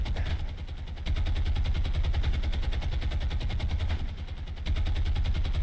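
Ship anti-aircraft guns in the naval game War on the Sea hammer away in a rapid, steady stream of thudding shots over a deep engine-like drone, loud and close, broken by two brief pauses.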